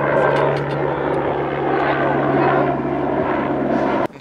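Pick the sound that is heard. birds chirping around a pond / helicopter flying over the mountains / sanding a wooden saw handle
helicopter flying over the mountains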